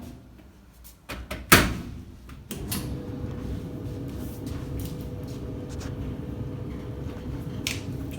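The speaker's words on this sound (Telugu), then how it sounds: "ఇప్పుడైతే నేను మీకు డోర్ క్లోజ్ చేసి చూపిస్తాను" A Whirlpool clothes dryer door is pushed shut with a sharp, close click and thud after a couple of small handling knocks. A steady low running hum from the machine follows right after.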